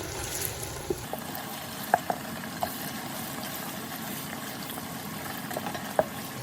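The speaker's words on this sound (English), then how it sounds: "After adding the tomato paste, you let it fry." Gino tomato paste fries with onions in a pot for smoked jollof rice, a soft, even sizzle and bubbling heard at a distance, broken by a few light utensil clicks.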